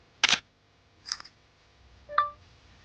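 A phone camera snaps a picture of a go-kart carburetor, giving three short, faint clicks and beeps spaced roughly a second apart in a quiet room.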